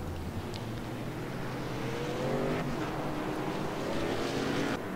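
Race cars circle the Bristol short track in a sim racing game, a steady dense engine drone with rising whine notes as cars pass close, loud and continuous throughout.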